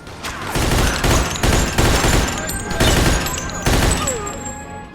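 Loud, rapid bursts of gunfire in the video game Mafia II in repeated volleys, close and dense, with brief pauses between bursts.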